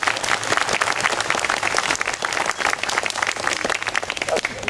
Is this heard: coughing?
no